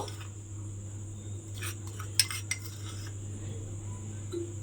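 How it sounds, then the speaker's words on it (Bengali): Egg fritter batter of egg, gram flour and green chilli mixed in a bowl, quiet scattered clinks and scrapes of a utensil against the bowl over a steady low hum, with a couple of sharper taps. "এবার সমস্ত উপকরণ খুব ভালোভাবে মিশিয়ে নিতে হবে"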